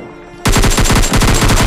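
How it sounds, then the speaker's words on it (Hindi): In a mobile battle royale game, a loud burst of automatic fire erupts after a quiet moment, each shot a sharp crack in a fast, steady stream that runs close and unbroken to the end. "नीचे से ना मुझे कुछ फायरिंग के साउंड आ रहे थे।"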